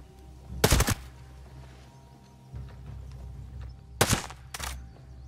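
Two sharp, loud gunshot bursts from a weapon in the tactical shooter video game Ghost Recon Breakpoint, separated by a few seconds over a low steady ambient rumble, with no talking.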